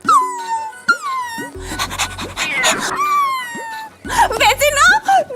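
A woman imitates a dog with rapid breathy panting, whimpers and drawn-out whining howls, her voice sliding up and down in a repeating pattern of pants and wails.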